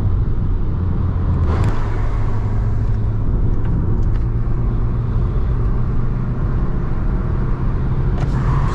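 Chevrolet Onix Turbo car accelerating on the road, a steady low engine rumble that rises slightly in pitch, with a couple of brief clicks and knocks.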